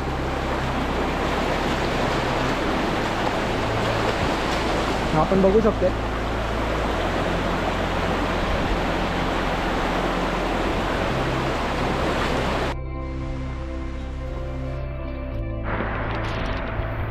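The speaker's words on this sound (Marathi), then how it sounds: "ही एक वॉटर स्ट्रीम क्रॉस करायला लागते." A water stream crossing on the Nakhind ridge trek near Vangani gives off a constant rushing wash, loud and unbroken, while a voice speaks briefly over it.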